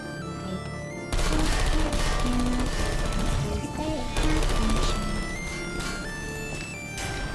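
Rapid turret gunfire in the video game Portal 2 bursts in after a second and keeps rattling loudly and continuously, with brief dips, over game music and effects.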